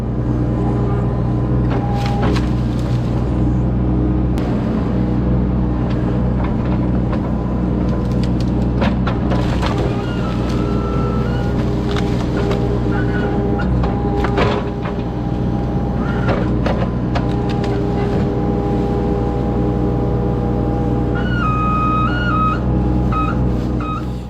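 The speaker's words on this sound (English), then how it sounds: "What that is, that's the hydraulics on the hydraulic thumb there." Kubota U25 mini excavator working its hydraulic thumb while curling the bucket: a constant low engine drone with a thin hydraulic whine and creaks rising over it, close and steady.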